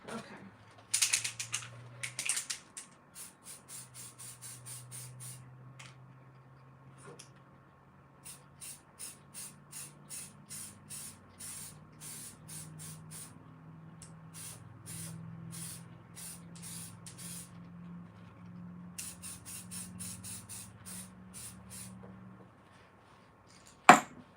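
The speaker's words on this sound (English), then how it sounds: "And I'm going to spray it." An aerosol can of iridescent spray paint hisses outdoors in a long series of short, evenly spaced bursts, fairly close and clear over a faint low hum, with a brief rattle near the start.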